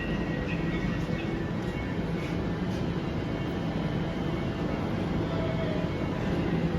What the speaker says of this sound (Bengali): 15 ডাব্বার ট্রেন